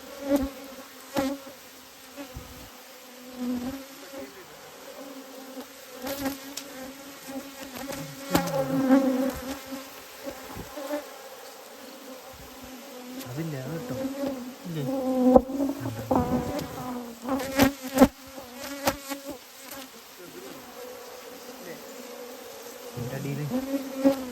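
Swarms of honey bees buzzing close around a hive as its honey is harvested, a dense continuous drone that swells and dips throughout.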